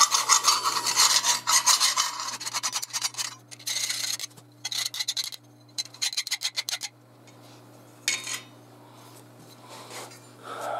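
A hand file rasping across the edge of a steel knife blank to remove the burr, in fast bursts of repeated strokes with short pauses, close and loud.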